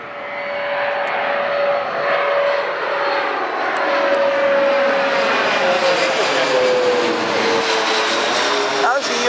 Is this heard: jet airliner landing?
yes